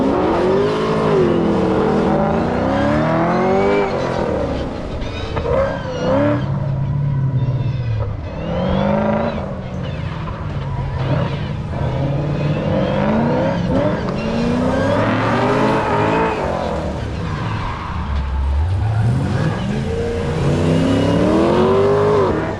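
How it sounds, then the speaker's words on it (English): A silver Chevrolet Camaro and an older-model Corvette race head to head at an autocross at Beech Bend Raceway Park, engines roaring and revving loudly with rising and falling pitch as they pass near and through the course, with no talk. "they're going to run the Camaro, the silver Camaro, versus the older model Corvette here"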